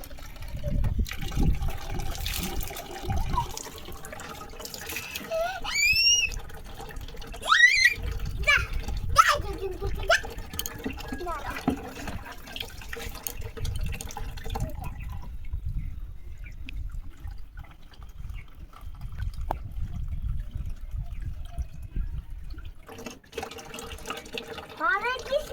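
Water is poured out onto a rooftop during children's bath-time play, splashing and trickling beneath lively children's voices and chatter.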